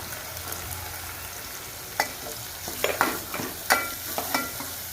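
Onion frying with chilli paste and asafoetida for rajma, stirred in a pan: a continuous soft sizzle carries repeated scraping strokes of a spoon, growing more frequent in the second half, with no talk.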